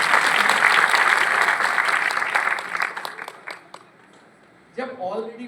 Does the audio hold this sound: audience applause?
yes